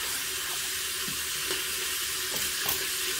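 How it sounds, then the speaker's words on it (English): Meat searing in a covered Ninja Foodi pot for pot roast, a dense, steady hiss like running water with a few faint knocks, close and unbroken, no voices. "while my meat is searing"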